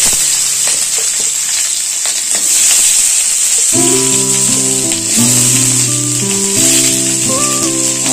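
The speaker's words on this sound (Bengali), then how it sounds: "তেলটা আমাদের গরম হয়ে গেছে। তার মধ্যে আমরা দিয়ে দিচ্ছি গরম মশলা," Whole garam masala spices hit hot oil for a chicken gravy and sizzle loudly and steadily with a bright hiss, while a short melodic tune plays over the second half.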